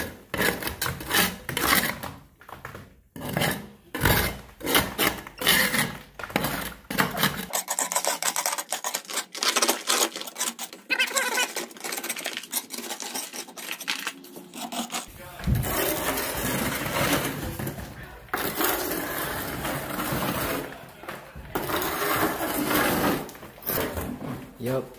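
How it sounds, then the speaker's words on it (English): Margin trowel scraping grout off thin brick pavers on a DIY grout-bag job, a run of close, rough rasping strokes with brief pauses and bangs, a voice talking over parts of it. "You use the Margie trowel, you scrape it all up"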